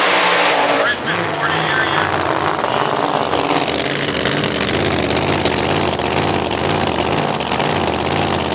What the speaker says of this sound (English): Sounds like maybe the car's stuck in high gear or something.